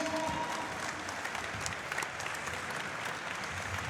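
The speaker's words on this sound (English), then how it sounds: "applause for these two again, please, everyone" A crowd at a Brazilian jiu-jitsu pro event in Ireland applauds two fighters after a bout, sustained even clapping that stays steady from start to finish with only faint voices beneath.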